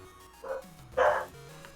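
A small dog gives two short bow-wow barks as a stream alert, the second louder and sharper. Both sound close and clear against a quiet background.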